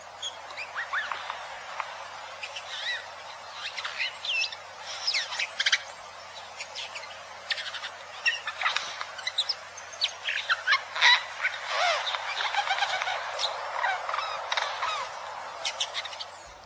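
A Eurasian jay sings a varied stream of calls, chirps and squawks in quick bursts, mimicking other birds, clear and fairly close against quiet background.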